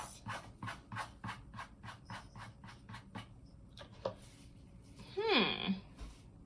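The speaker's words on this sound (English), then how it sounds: "let's see if we can rub off the salt on this one. Rub it off." Salt rubbed off a painted art experiment surface, a series of short dry scraping strokes in a steady rhythm, close and fairly quiet, ending in a brief swelling rasp.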